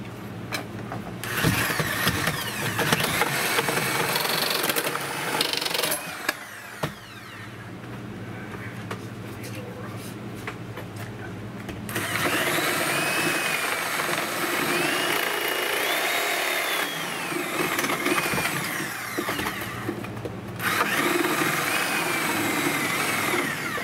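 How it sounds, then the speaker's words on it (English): A saber saw (reciprocating saw) runs almost continuously through a rotted wooden sill plate during a house repair, a loud, steady, buzzing mechanical drone with brief pauses and shifts in pitch as the blade bites. "Grab my saber saw."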